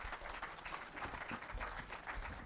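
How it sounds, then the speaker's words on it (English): Audience applause at a technical consultative workshop on declining crude oil production, steady dense clapping from a crowd throughout, welcoming a keynote speaker to the podium, heard at a moderate distance. "Let's clap for him as he comes."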